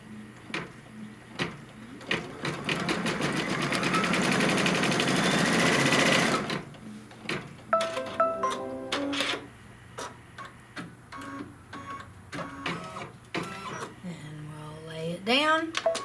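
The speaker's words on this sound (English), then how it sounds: "it's going to stitch the placement line for it first" An embroidery machine stitches a placement line on a quilt block, a rapid buzzing run of stitches for a few seconds followed by scattered clicks and ticks while a person talks.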